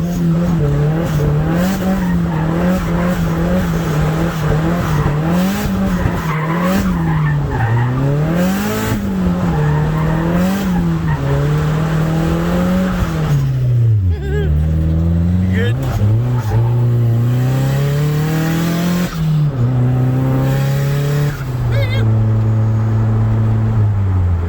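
Drift cars at the Highland Drift event send out a continuous, loud wail of engine revs that climbs and falls with each throttle blip, mixed with screeching tire squeal throughout.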